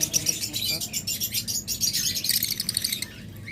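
Caged pet lovebirds and cockatiels chirp in rapid, high, busy bursts that overlap with one another. The sound is moderately close but fairly quiet.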